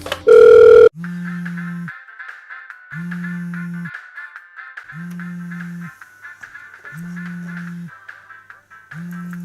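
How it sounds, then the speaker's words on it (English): A phone rings in a cartoon game review, repeated ring bursts in a steady regular rhythm, fairly loud and close, after a short loud tone at the start, with no voices over it. "Hey there, this is Petronius's phone"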